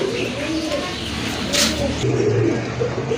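A big pair of Bombay pigeons coo in low, repeated murmuring phrases, close by and fairly soft, over a light background hiss with a brief rustle midway.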